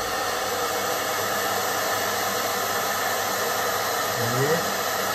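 Hair dryer blowing hot air during a blow-dry with a brush, a steady close whooshing hiss with a faint low hum that continues unbroken throughout, a brief murmur near the end.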